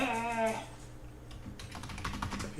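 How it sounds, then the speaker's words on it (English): Computer keyboard typing while entering data into a statistics program, a run of quick clicky keystrokes that picks up again in the second half, close and moderately loud with no talk over it. "I start typing and it just keeps on jumping down"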